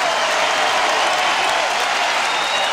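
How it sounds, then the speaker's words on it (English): Wrestling match crowd applauding steadily, a dense, even wash of clapping throughout at a moderate distance. "the crowd's appreciating"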